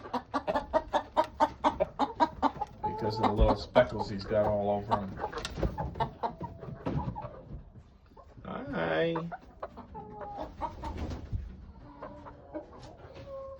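Older hens and a rooster cluck and squawk in short bursts close by, mixed with a person talking over them.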